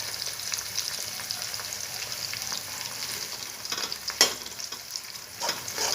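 Chowmein frying in a pan, stirred with a utensil: a steady close sizzle runs throughout, broken by scraping strokes and one sharp clink against the pan, with no talking.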